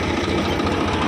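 A tractor pulling a cultivator runs in fourth low gear, its diesel engine a loud, close, steady rumbling drone with a rapid throbbing pulse throughout the short stretch, with no voices.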